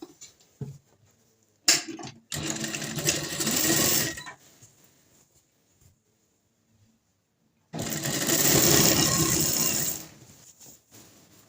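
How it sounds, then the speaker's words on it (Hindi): A sewing machine stitches a palazzo pant seam in two loud whirring bursts separated by a quiet pause, with brief clicks and fabric handling around them. "यहाँ से हमने पकड़ के तो इसकी सिलाई लगा लेनी है"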